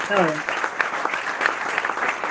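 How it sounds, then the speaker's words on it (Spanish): Brief applause from a classroom audience, a voice briefly speaking at the very start before scattered clapping carries on at a moderate level. "Con aplausos y todo, me siento en el teatro."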